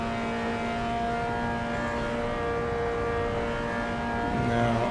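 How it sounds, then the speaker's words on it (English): A racing car engine in the video game Assetto Corsa EVO hums steadily with layered tonal whine, the revs gradually climbing toward the end. "We can just sit back and listen to the revs climb."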